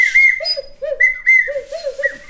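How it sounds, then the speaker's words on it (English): Double-chamber ocarina playing a tune, breathy whistle-like notes hopping between two registers in a short, close phrase with no talking. "And this one, they're actually two different chambers of ocarinas."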